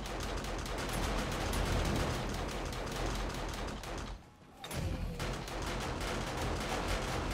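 Automated base turrets firing nonstop at a swarming horde during an insane-difficulty horde night in a survival video game, a dense, rapid rattle of gunfire that drops out briefly partway through, then resumes at full intensity.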